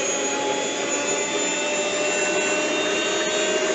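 A stand mixer whirs steadily as it mixes boxed cake batter, a continuous close, even motor hum with no pauses and no talking.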